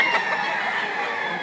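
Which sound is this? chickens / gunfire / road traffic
chickens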